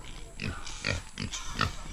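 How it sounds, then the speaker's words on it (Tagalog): A black pig on a farm in the Philippines grunts repeatedly in short, throaty bursts, close by, with a few soft oinks mixed in over low background noise. "may alaga kaming baboy dito"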